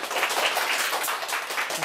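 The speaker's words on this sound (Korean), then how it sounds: "큰 박수 부탁드립니다." A lecture-show audience breaks into applause as a guest speaker is welcomed on stage, a steady, fairly loud burst of many people clapping with no talk over it.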